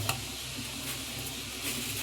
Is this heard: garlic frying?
yes